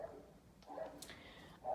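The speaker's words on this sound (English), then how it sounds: "excuse the barking dogs outside" A few faint, muffled dog barks and yips in the distance, coming from outside and heard from inside a bedroom.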